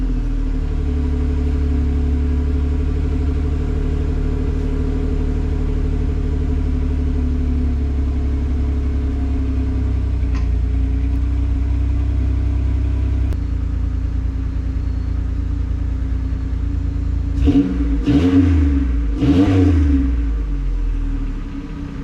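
A car engine fitted with new exhaust headers idles with a deep, loud rumble close by, then revs up twice near the end in rising, sweeping bursts before settling back.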